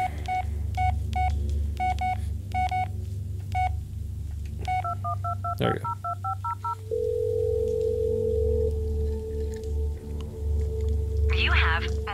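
In the Blair Witch video game, a phone dials out with a string of DTMF keypad tones, then a steady ringing tone follows over a low ambient drone, ending with a brief electronic warble.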